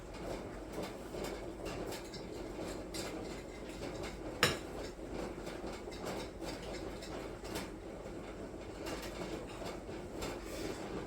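Prune pudding ingredients are stirred in a bowl with a continuous scraping and clinking, brief sharp knocks scattered throughout and one louder clank partway, no voices.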